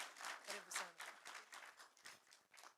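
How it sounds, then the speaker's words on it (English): Audience applause at the launch of an environmental youth challenge, scattered claps rising and falling in bursts, fairly faint and distant-sounding over a couple of seconds. "A round of applause, ladies and gentlemen."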